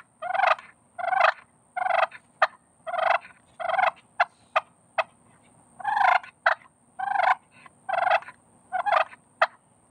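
A hand-operated push pin turkey call gives a rapid series of short, close clucks and yelps in uneven bursts, some quick single clicks between, with no talking.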